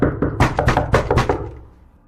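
Heavy fists pound hard on a hostel room door in quick, uneven bursts of loud, close thuds, then the banging stops and fades into silence.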